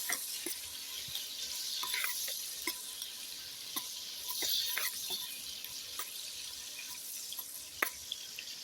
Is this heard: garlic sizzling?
yes